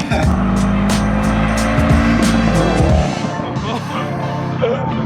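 A 2014 Subaru STI fitted with a Cobb downpipe drives close by, its engine droning loud and steady before dropping off, with voices talking faintly underneath.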